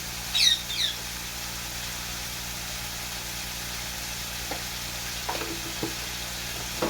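Onion and chicken fry together in a pan with a soft, steady sizzling hiss, broken by a few faint clinks and scrapes of a utensil.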